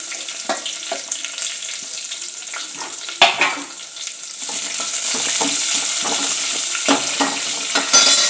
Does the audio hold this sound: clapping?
no